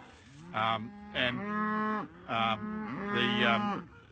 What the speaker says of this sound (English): The cattle have done pretty well in here.